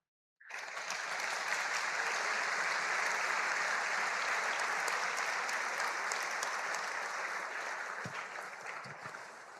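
A large audience at a men's gathering in Jundiaí applauds in one sustained burst of dense clapping that starts abruptly, holds steady and loud, and tapers slightly near the end.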